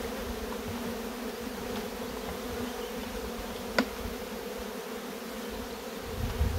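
Honeybees buzz in a steady, dense drone while being shaken from a beehive into a box, with a single brief click partway through and a slight rise in the hum near the end.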